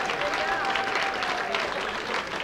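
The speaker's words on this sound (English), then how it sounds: "So give her a big round of applause, everybody." Audience applause at an evening gathering honouring a mother and grandmother, a steady dense wash of clapping hands with faint voices and a tonal line threaded through.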